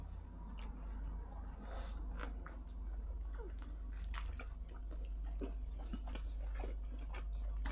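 Someone quietly eats tandoor-baked shawarma, with soft wet chewing, squishing and biting sounds repeating irregularly at close range over a low background hum.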